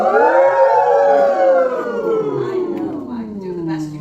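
Singers in a choir warm-up imitate a siren on an 'ah' vowel, a single sustained vocal glide that sweeps high and slowly descends over several seconds, loud and close.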